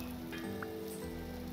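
Rain falling in the game Vintage Story, a quiet, steady patter with soft drops over a low constant ambient hum and tonal drone, faint and continuous.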